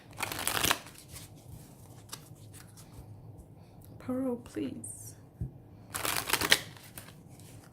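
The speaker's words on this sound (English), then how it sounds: "Let me just shuffle the cards." Playing cards are shuffled in two quick riffling bursts, with a soft voice speaking briefly between them.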